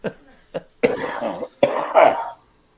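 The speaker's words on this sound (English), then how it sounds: "I need to have a little cough fit for a second." A person has a coughing fit: two short sharp coughs, then two longer rasping, hacking bouts, close and loud.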